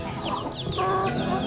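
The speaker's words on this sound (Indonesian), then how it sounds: "Itu ayamnya sudah ngerayu-ngerayu" A Bangkok rooster gives a short run of soft, repeated clucks while courting a hen, fairly quiet over faint farmyard background noise.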